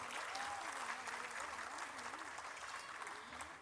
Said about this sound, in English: Come on, parents, give them a big round of applause.